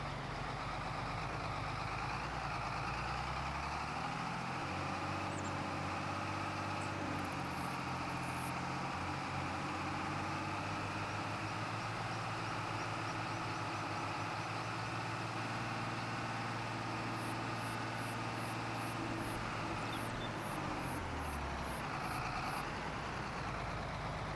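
A tractor engine runs steadily on a farm, a continuous, loud, low rumble with a few slight shifts in tone over about twenty-four seconds and no talking.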